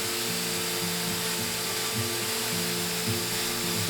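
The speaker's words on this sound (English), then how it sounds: "I'm going to use a portable oscillating sander to just clean this out a little bit" Portable oscillating sander working on wood, a steady whirring buzz with faint shifting tonal drone, close and even throughout.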